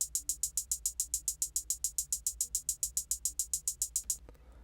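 Programmed hi-hats in a triplet pattern, every hit at the same velocity, a quick even train of bright ticks with uniform loudness over a faint low hum, cutting off shortly before the end.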